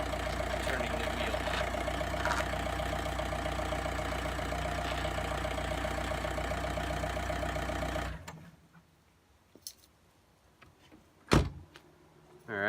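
A VW Jetta TDI engine idles steadily with a constant mechanical hum while the steering wheel is turned, then the running sound cuts out abruptly, leaving near quiet broken by a few brief clicks and one sharp knock.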